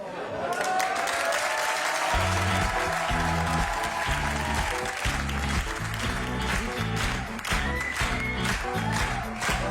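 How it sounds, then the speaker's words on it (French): Audience applause for a comedian at a live comedy show, loud and sustained clapping with heavy rhythmic music pounding underneath throughout. "On peut l'applaudir."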